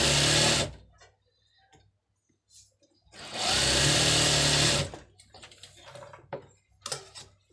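A sewing machine running a double line of stitching on trousers, two loud sustained whirring bursts separated by a pause, followed by quieter clicks and fabric handling up close.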